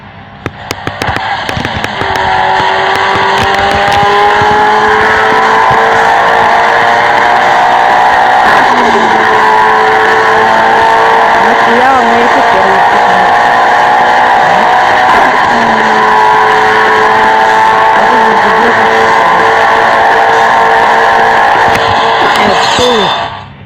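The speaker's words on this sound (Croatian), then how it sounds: "Čuli ste zvuk mog auta" Race car engines roar and tires skid in the Need For Speed No Limits mobile racing game, a loud continuous engine whine rising and falling with gear shifts, squeals and bursts of sound effects throughout.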